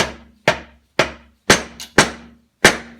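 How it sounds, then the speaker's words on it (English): A rubber hammer taps a part into a mower deck, six sharp, close knocks at a steady unhurried pace, each ringing briefly with a faint low hum underneath and no talk. "Same thing, rubber hammer, just tap."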